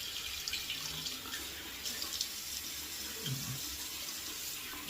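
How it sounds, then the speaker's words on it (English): Tap water runs steadily into a bathroom sink while rinsing off after a wet shave, a continuous close splashing hiss with no talk. "So guys, I'm gonna rinse up."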